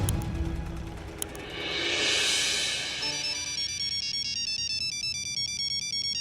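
A telephone ringtone plays alone in an office scene of a Hindi comedy series, an electronic melody repeating in steady, even pulses that sounds close and clear.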